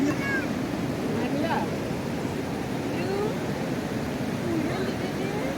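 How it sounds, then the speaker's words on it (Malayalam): Fast-flowing Chalakudy river water near Athirappilly rushes in a steady, broad roar at close range, while faint voices drift over it. "വെള്ളം ഇങ്ങനെ നല്ല കുത്തി ഒലിച്ച് വെള്ളം പോകുന്നുണ്ട്"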